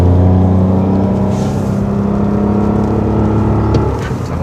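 Electric car with batteries mounted at the rear accelerating, a steady loud whirring hum with layered motor tones that holds level throughout and eases slightly near the end.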